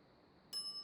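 A single bright bell ding rings out in the video game Monkey Island Tactics, a short clear strike after a quiet moment, leaving a ringing tone.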